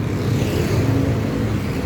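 Steady road traffic flows past close by, a dense continuous whir and rumble of cars and motorbikes with no clear gaps and no talking.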